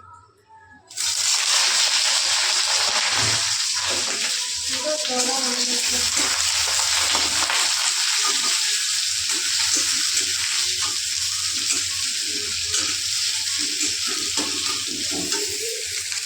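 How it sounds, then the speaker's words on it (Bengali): Onions and green chillies dropped into hot oil give a loud, steady frying hiss that starts abruptly and runs on without a break, close by, with clatters of a utensil now and then. "আগে পেঁয়াজ আর লঙ্কাটা ভাজবো।"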